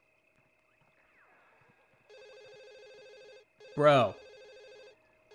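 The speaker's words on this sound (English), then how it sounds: "What is up with this phone?" In The Sims on PS2, a video game phone rings with repeated electronic trill bursts, steady and moderately loud; a voice speaks briefly over the second ring.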